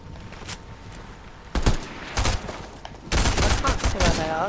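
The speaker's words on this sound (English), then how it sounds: "Oh, they're shooting me." Rapid bursts of gunfire in the Fortnite video game, crackling in loud clusters that grow denser toward the end, with players talking over the shooting.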